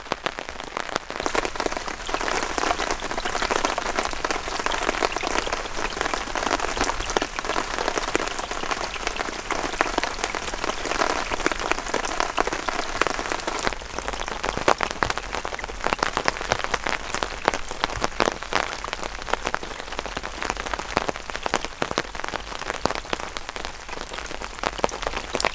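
Heavy rain pours down steadily on a cold, damp day, a dense continuous hiss and patter on surfaces that stays loud and even throughout with no voices.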